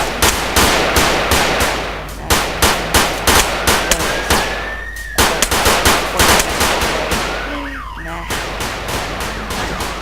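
Rapid bursts of video game gunfire from a modded GTA San Andreas, loud and repeated in quick volleys with short gaps, plus a brief rising whine and some squealing game effects near the end.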